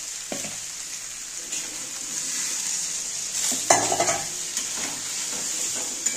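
Water poured into a pan of frying soybean curry, with potatoes, in a Bengali home kitchen, giving a steady sizzle and bubbling with a few sharp spits and stirring scrapes, close and moderately loud.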